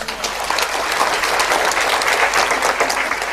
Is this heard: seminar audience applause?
yes